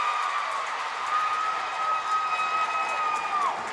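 Arena crowd noise at a college men's basketball game, a steady broad roar of cheering and applause that holds level throughout with a faint whistle-like tone running across.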